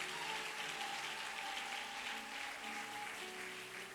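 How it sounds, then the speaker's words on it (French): Audience applause and cheering for a pastor at a French-speaking church service, a steady dense wash of clapping lasting throughout with sustained tonal voices or music underneath. "Est-ce qu'on peut acclamer pour lui?"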